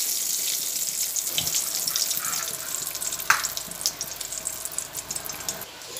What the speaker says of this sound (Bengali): তেজপাতা আর পাঁচফোড়ন একসঙ্গে ভেজে নিচ্ছি।